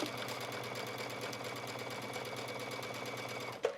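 A sewing machine stitches a knit waistband onto an A-line skirt, a steady close mechanical whir running without pause until a sharp click near the end.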